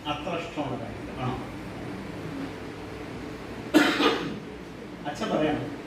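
A man's cough bursts out twice, sharp and close, during a public talk, with a brief throat-clearing quality and low room murmur between the bursts.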